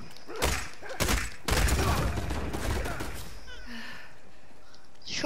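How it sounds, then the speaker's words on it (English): Shotgun blasts in Uncharted 4 multiplayer come as a few loud, close booming shots in quick succession, followed by fainter game noise, while a voice talks over part of it. "Shotgun's amazing."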